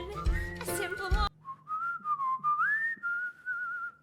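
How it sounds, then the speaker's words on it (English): Whistling in a musical theater song recording, entering after a brief burst of full music and then carrying a bright, wavering melodic line of sustained notes in short phrases, alone and fairly close. "Is this whistling live?"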